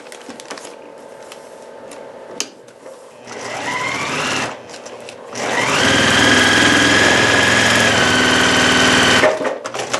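Sewing machine stitching fabric for a paper-pieced pineapple mug rug, whirring in a short burst and then a longer steady run, loud and close with a high motor whine and no talk.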